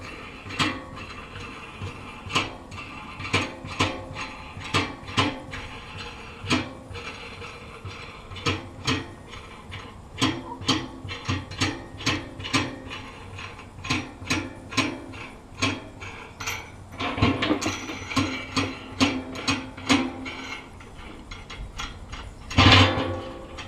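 Nut being run onto a bolt while building a 55-gallon deer and hog feeder, a steady series of sharp ratcheting clicks repeating about once a second, with a louder clunk near the end.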